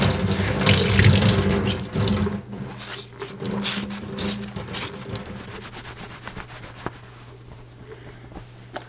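Water drains from wet felt for a witch hat into a sink, a loud, steady rushing splash that eases off gradually toward the end, with no one talking over it.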